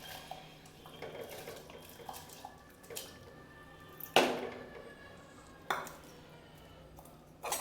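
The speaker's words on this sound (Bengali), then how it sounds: "এবারে চাল ডালটাই হাঁড়ির মধ্যেই ছেড়ে দেবো" Clinks and knocks of a cooking pot and utensils as washed rice and lentils go into a pot of hot water for khichdi. The clatter comes in a few sharp, close hits over quiet background, with no speech.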